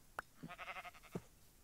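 Sheep bleating in Minecraft, a short burst of wavering bleats with a few brief clicks around it, clear and close with no talk.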